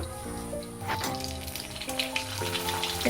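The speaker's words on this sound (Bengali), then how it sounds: "দেখুন আমার কিন্তু তেলটা গরম হয়ে গিয়েছে এবার আমি তেলের মধ্যে পাঁপড়টা দিয়ে নিচ্ছি" Sago papad sizzles and crackles as it fries and puffs in hot oil, a steady close bubbling hiss with scattered pops that swell in bursts, no voices.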